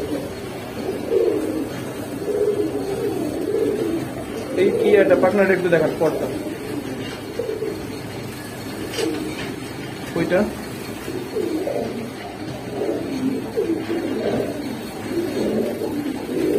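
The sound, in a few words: pigeons cooing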